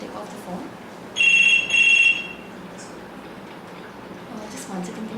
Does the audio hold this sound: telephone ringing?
yes